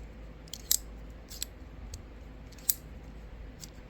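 A Vosteed Shillin 154CM folding knife is flicked open and shut, producing a few sharp, crisp metallic clicks and snaps spaced irregularly over quiet background.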